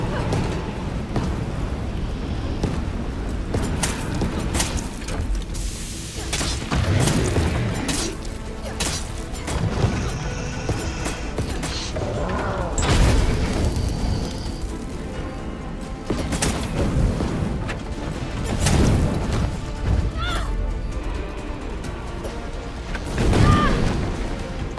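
A fuel tank explodes in the video game Nemesis with heavy booms and crashing debris amid dense, rumbling game noise that swells at several points, with occasional voices.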